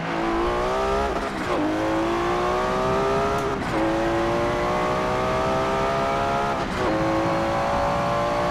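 Nissan GT-R R34 in Forza Motorsport 7 revving hard and accelerating up to 100 km/h, loud and close, the engine pitch climbing through three gear changes with brief dips between them.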